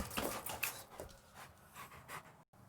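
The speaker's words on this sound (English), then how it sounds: "A bunch of dogs just ran up here trying to help each other." A bunch of dogs run up outdoors, panting quickly and loudly close by, with a few scuffles and faint whimpers mixed into the rapid breathing.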